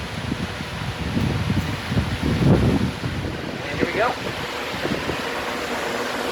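A greenhouse evaporative cooling fan runs close by, giving a steady, loud broadband roar like strong wind that continues under a person speaking.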